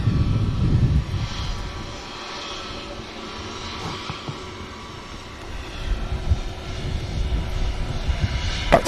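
Ryanair jet at rotation speed on its takeoff roll at Manchester Airport, a continuous engine rumble and hiss that dips in the middle then builds again toward the end, heard alone without voices.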